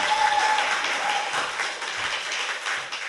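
Sustained applause from a press-room audience filling the whole stretch at steady loudness, dense and continuous with no voices rising above it.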